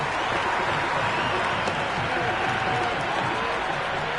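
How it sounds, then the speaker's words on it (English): Stadium crowd in the Cricket 26 video game on PS5, a steady loud roar with applause carrying under commentary talk throughout. "Will you listen to that crowd? They are loving this."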